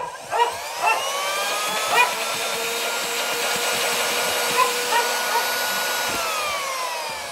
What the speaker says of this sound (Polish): A tutaj silnik mam już ponownie zamontowany w odkurzaczu i przykręcony, możemy podłączyć go do zapalniczki i sprawdzić